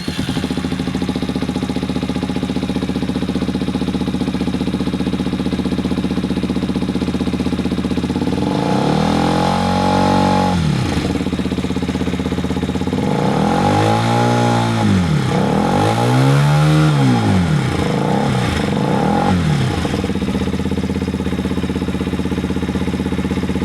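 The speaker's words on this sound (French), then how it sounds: "faut dire que cette moto a un son vraiment rauque. Son petit monocylindre tape quand même pas mal" A SWM 125 Ace of Spades single-cylinder motorcycle idles with a raspy, close thumping rumble, then revs in several short bursts that rise and fall before settling back to idle.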